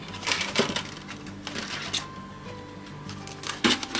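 A Dell Inspiron 15 3542 laptop keyboard is handled during disassembly, with close plastic clicks, taps and rustling scrapes of parts being moved.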